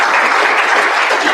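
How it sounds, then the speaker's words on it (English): Audience at a research conference breaks into steady, full applause, a dense wash of clapping sustained across the short moment. "So I'd like to give them a round of applause."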